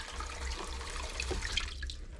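Cold water running from a tap into a sink to rinse something out, a steady broadband splashing flow close by and fairly quiet, continuing evenly throughout with no talk.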